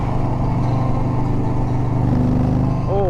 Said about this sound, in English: as soon as you twist the throttle, it gets real loud